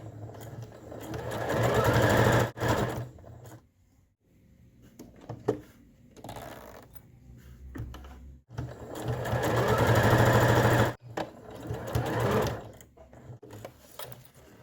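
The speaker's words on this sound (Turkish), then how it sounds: "Diğer tarafı da dikeceğiz." Sewing machine stitching a chair cushion cover in loud close bursts of rapid whirring, two long runs separated by pauses and short stop-start stitches, with no talking.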